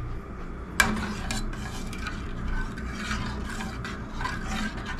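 Chai tea being stirred in a pot, a steady soft scraping and swirling that runs continuously with one sharp clink of the spoon against the metal near the start, close and moderately quiet, with no one talking.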